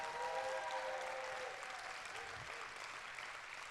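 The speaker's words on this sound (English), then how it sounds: "so give them a quick round of applause" A school audience at a second grade showcase claps in a faint, distant round of applause that stays steady and thins slightly toward the end.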